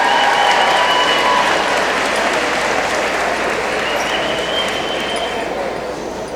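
Loud, close audience applause for students at an 8th grade awards ceremony, a thick wash of clapping that holds steady and slowly tapers toward the end.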